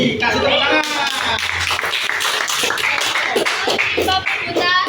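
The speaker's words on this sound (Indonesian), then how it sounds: "Kasih tepuk tangan." A classroom of students claps for a student group with continuous, lively applause at close range, loud and mixed with some voices.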